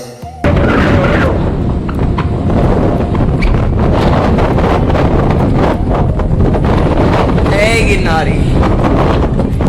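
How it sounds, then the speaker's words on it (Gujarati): Strong wind on Girnar mountain in Junagadh roars steadily across the microphone, loud and buffeting throughout, with a faint voice briefly audible beneath it. "જે સ્વર્ગીય હવા આવે છે એ હું તમને સંભળાવવા માંગુ છું"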